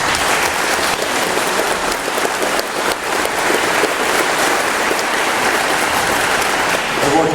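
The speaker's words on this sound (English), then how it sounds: "Did we give them a round of applause?" Sustained applause from a crowd at a high school class reunion, steady and dense throughout with no pauses, filling the room without talk over it.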